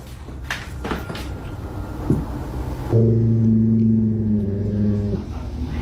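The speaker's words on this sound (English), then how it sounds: "Something opens that door" A door creaks open on its own, a brief knock followed by a loud, sustained low groaning creak lasting a couple of seconds before fading into room noise.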